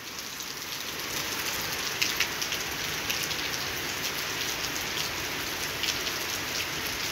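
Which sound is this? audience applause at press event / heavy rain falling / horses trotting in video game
heavy rain falling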